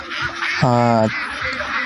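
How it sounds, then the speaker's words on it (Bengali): A flock of about 450 Khaki Campbell and Jinding ducks, four months and ten days old and nearing laying age, on a farm; a single loud, close, drawn-out quack rings out over steady background hiss. "এখানে দেখতে পাচ্ছেন চারশো পঞ্চাশ পিস অরিজিনাল থাকি ক্যামেল এবং জিন্ডিং"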